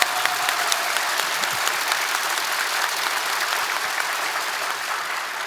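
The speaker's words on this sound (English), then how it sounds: "You need to give a round of applause to those guys." A conference audience at a corporate leadership event applauding, dense steady clapping from a large room filling the whole stretch.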